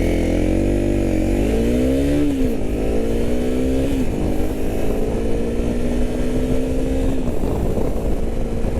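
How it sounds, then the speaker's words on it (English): A Honda CRF250L Rally enduro motorcycle accelerates at wide open throttle. Its engine drones loud and close, climbing in pitch through the gears, with brief dips at each shift and no talk over it. "that's a lot of wide open throttle through the scary gears"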